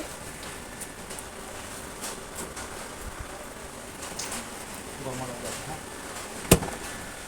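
Steady rain patters across the whole stretch with a loud sharp knock near the end; a voice is faintly present underneath.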